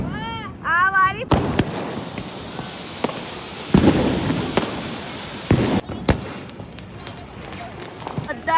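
Diwali firecrackers and fireworks burst in a series of sharp, loud bangs and crackles at an outdoor celebration, with people talking and shouting between the blasts.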